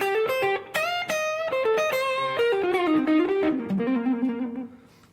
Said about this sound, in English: It's actually a modeled tube screamer from a Line 6 M13, and there's a little reverb, a little more